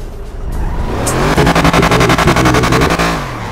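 A modded car in the GTA video game with a custom engine accelerates hard, its engine note climbing in rapid pulsing revs as the tires squeal and skid, loud and close, with no talking.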